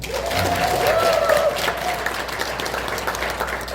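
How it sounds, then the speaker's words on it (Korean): A seminar audience of around a hundred people in Jeju claps together in steady, moderately loud applause with a faint voice carrying over the room. "여러분들 스스로 위해서 박수 한번 더 부탁드리겠습니다"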